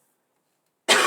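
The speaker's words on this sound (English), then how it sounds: "Excuse me, I'm going to cough again." Near silence, then a single loud, close cough bursting in near the end.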